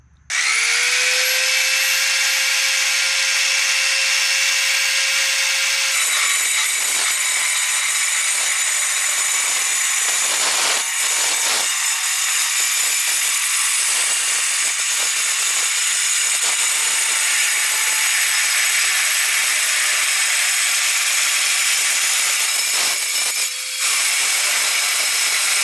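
An Eastwood mini metal saw cuts through metal freehand with a loud, steady, close whine. The pitch drops as the blade bites, then the grinding cut runs continuously for about twenty-five seconds with no talk.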